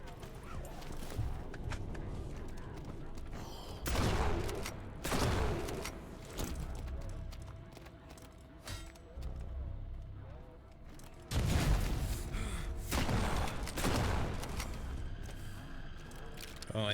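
Gunfire in the video game Total Chaos, a few heavy broadband blasts about seven seconds apart standing out over a dense, busy game soundscape.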